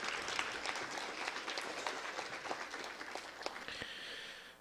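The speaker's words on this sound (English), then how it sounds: "A round of applause, please, for the Grace Christian Academy Eagles." Theater audience at a scholarship challenge finals breaking into steady, fairly distant applause that continues throughout and fades slightly at the end, with no talking.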